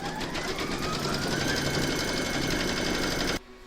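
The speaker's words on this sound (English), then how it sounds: "Pop your hoop back into your machine and stitch round number 2 to secure it" Embroidery machine stitching a round on an in-the-hoop apple coaster, a loud continuous mechanical whir with a rapid needle rhythm that cuts off abruptly near the end.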